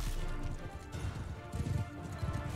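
Horses galloping in the medieval battle game Mount and Blade Bannerlord, a dense run of rapid hoofbeats from several animals, close and fairly loud, thudding in uneven clusters over a busy background.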